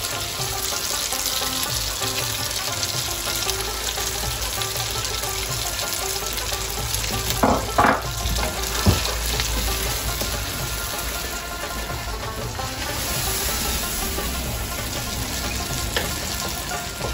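Peshawari chicken frying in a pan with fresh green coriander being added, giving a steady continuous sizzle with a few brief clatters and knocks partway through; no one speaks.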